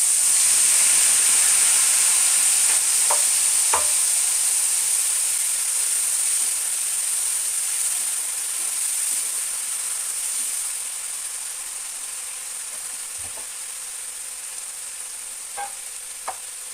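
Spice paste containing mustard frying in a pan for a vegetarian aubergine dish, a steady sizzling hiss throughout with a few scattered stirring scrapes, fading slightly toward the end, no voices.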